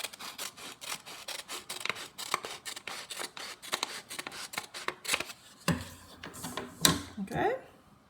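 Scissors snip through paper in a quick, steady run of close, crisp cuts, followed by a few louder rustles and handling sounds near the end.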